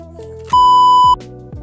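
A phone camera powering off lets out one loud, steady electronic beep lasting over half a second, sounding over a faint musical backdrop with soft plucked notes.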